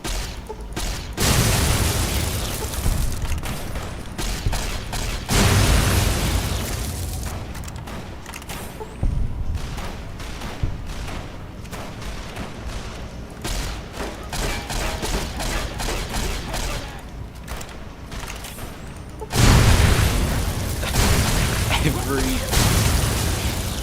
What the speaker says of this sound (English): There are explosions everywhere.